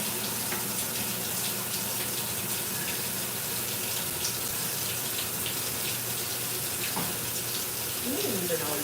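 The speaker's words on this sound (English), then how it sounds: "So, child, I let my water run." Tap water running steadily at full flow to fill a washing machine for a laundry load, a continuous loud rushing gush with no pauses.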